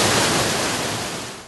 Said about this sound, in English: The world's largest wave overtopping simulator